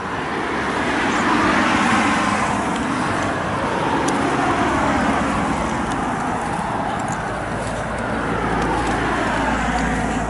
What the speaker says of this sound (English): As you can see, there is still some traffic on the roads, people still going around.